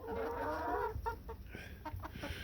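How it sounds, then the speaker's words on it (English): Hens in a backyard flock cluck softly during an Atlantic Canada snowstorm, with a steady stream of low, overlapping clucks and murmurs close by and a quiet hum underneath. "These are new hens here."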